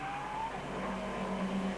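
Racing cars in the 1996 TVR Tuscan Challenge braking hard, tyres locking up and squealing over a roaring engine background, a brief screech rising near the end.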